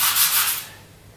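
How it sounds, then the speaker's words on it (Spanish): A sanding sponge scrubs rust off a steel fencing sabre blade in quick back-and-forth strokes, a loud bright abrasive rasp that fades off after the first half-second, with no voices. "Esto es una esponjilla de lija que debemos tener todos."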